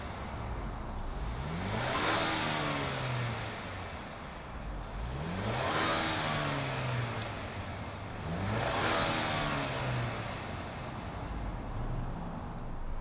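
A 2020 Ford Explorer Limited engine runs with three rising revs spaced a few seconds apart, each swelling and falling back to a steady idle hum, heard close with no talking.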